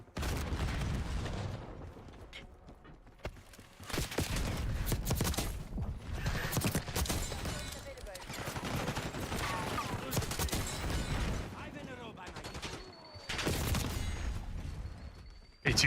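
Gunfire in Call of Duty Black Ops 6 multiplayer, several bursts of rapid shots separated by short pauses, loud and close, with quieter mechanical gun handling between bursts.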